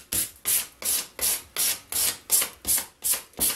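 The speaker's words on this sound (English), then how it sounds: "I'll show you how I go over the top with just a regular piece of sandpaper" Regular sandpaper scrubs by hand across the edges of chalk-painted coasters in nine even back-and-forth strokes, each a loud, close, raspy swish.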